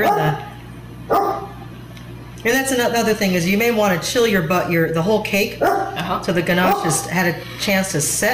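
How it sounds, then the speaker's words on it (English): A pet dog barks a few times near a kitchen where a vegan ganache chocolate cake is being decorated with buttercream, the short yaps mostly heard under a person's steady talking. "barking for a piece of cake."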